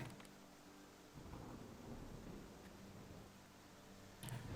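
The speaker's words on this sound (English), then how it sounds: "it's raining pretty hard" Heavy rain with rolling thunder in the farming game Farm Manager 2021, a quiet, continuous wash of downpour with low rumbles swelling and fading, ending with a brief louder burst.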